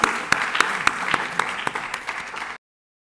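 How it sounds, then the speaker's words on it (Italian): An audience at an engineering graduation award ceremony gives a dense, steady round of applause with sharp individual claps standing out, stopping abruptly. "chiudere con un applauso ai nostri ragazzi"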